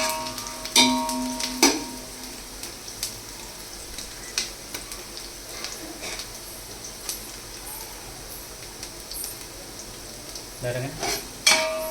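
Onions sizzle and fry in a pan for mutton biryani, a steady crackling hiss broken by sharp clinks and scrapes of stirring, close and moderately loud with no talk.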